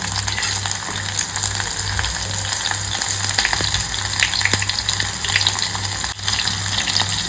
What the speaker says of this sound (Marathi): हा लसूण न सोलताच ठेचून घेतलेले त्याच्यामध्ये टाकून घे